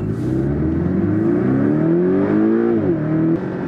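A Porsche accelerates hard on a track near Malaga, its engine note climbing steadily in pitch and then dipping briefly as it shifts, loud and close throughout.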